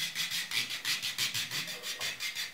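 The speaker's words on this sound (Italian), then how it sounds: "andiamo a passarli con una sorta di lima per talloni." A heel file rubbed back and forth over the heels during a pedicure, making a rapid, even rasping stroke about five times a second, close and steady.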